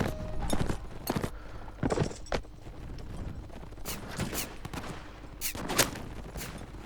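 Gunfire from gunners holding a hill in a samurai video game: scattered sharp musket-like shots and short volleys, some close and some farther off, over a quiet battlefield background.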